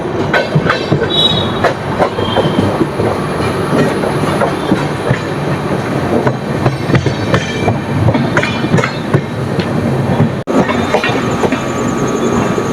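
A passenger train, the Ernakulam superfast express from Bangalore, rounds a curve near Krishnarajapuram: a loud, steady rumble with rhythmic clickety-clack of wheels on rails running throughout, close by and without talk.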